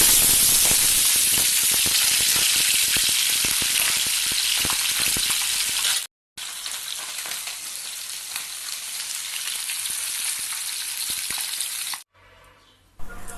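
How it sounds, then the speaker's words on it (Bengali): Pabda fish frying in hot mustard oil, a loud, dense, continuous sizzle with crackling spatter, briefly cut off twice, no talking. "তেল গরম হলে একে একে মাছগুলোকে ছেড়ে দিচ্ছি।"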